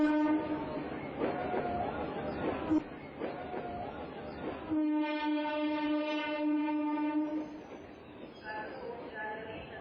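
Sounds of a railway station with trains: a loud sustained horn-like tone rises amid rumbling and station noise, with people talking in places.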